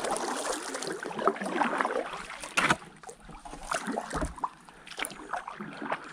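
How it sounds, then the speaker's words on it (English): A kayak paddle with a long 260 cm shaft makes broad sweeping strokes through open reservoir water in early spring, soft splashes and drips recurring in a loose rhythm, close and fairly quiet. "I do like it for the nice broad sweeping strokes I can make with it when I'm out in open water."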